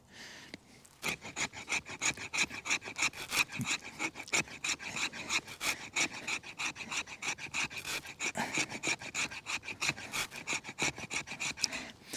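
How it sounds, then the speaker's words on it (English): The spine of a Joker OSO TS1 hunting knife scraped along a piece of wood, a close, loud, rapid rasping in steady back-and-forth strokes for several seconds, with no talking. "that's good wood for scraping. And a good spine for scraping as well."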